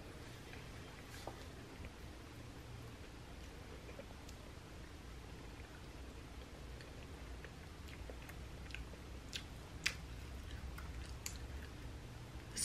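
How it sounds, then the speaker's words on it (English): Cucumber is chewed close to the mic, giving soft, wet crunching and mastication sounds that stay fairly quiet, with no talking. "But I'll eat the cucumber."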